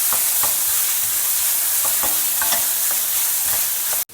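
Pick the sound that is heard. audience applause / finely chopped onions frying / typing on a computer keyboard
finely chopped onions frying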